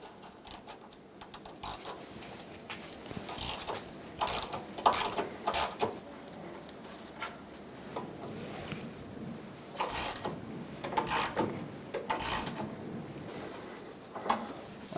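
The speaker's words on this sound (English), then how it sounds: "There are three 15mm bolts holding this on," Clicking, ratcheting wrench work on 15mm bolts while removing a front bumper bracket from a 2007-2014 Chevrolet Silverado 2500 HD, a series of sharp, irregular metallic clicks and taps close by, with no talking.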